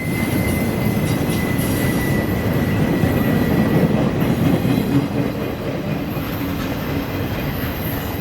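A freight train rolls past steadily on the Etowah subdivision north of Cartersville, a loud, continuous roar of wheels on rail with a faint high squeal running through it. It stays close and unbroken for the whole stretch, with no voices.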